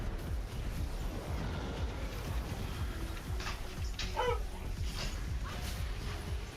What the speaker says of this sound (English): Puppy is excited that my partner is home.